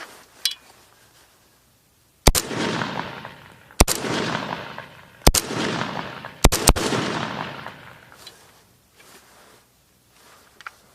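An AKS-74U rifle fires at an outdoor range: four or five sharp, loud cracks spaced a second or two apart, the last two in quick succession, each followed by a long rolling echo.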